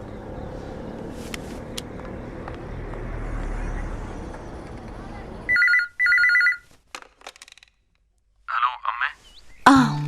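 An outgoing call rings in a Malayalam romantic thriller film: two short ringback tones sound after a low background rumble, followed by another brief ring and a short voice.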